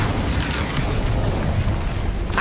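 Incendio fire spell cast in Hogwarts Legacy, a loud, sustained roaring blast of flame that fills the whole moment, dense and rumbling with a crackling burst near the end.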